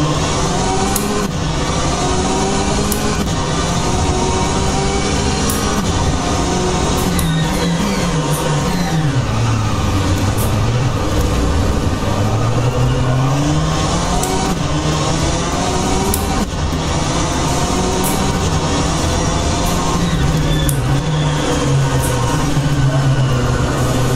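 A race car engine in a racing video game, running on deflated tyres, drones loudly and continuously, its pitch rising and falling through gear changes and corners.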